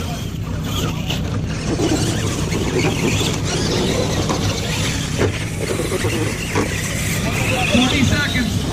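Scale RC monster trucks, including one called Terminator, run lap after lap around an expo racing track, their motors whining and buzzing steadily at fairly close range beneath continuous crowd and commentator chatter.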